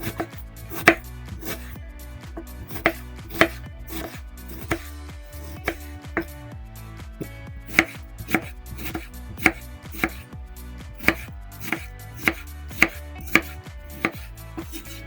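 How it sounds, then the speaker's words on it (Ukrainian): Steady knife chopping of tomato into small pieces on a board, close up, with evenly spaced sharp taps repeating over a low background. "Помідор нарізаю дрібними шматочками."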